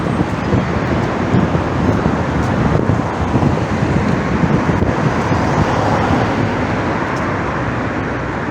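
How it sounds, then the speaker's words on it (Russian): Steady, loud cold wind buffets the microphone with a continuous roar, mixed with a low background hum of city road traffic; no one speaks. "Очень холодный ветер"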